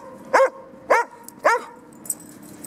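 Three sharp, close dog barks come in a steady rhythm about half a second apart, then a faint yip follows. The background is otherwise quiet.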